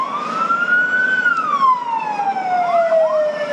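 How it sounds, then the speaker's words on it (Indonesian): A fire engine siren at a blaze at the Attorney General's office building in South Jakarta, one loud, close wail that rises and then slowly falls over a low road rumble. "ada sebuah mobil pemadam kebakaran"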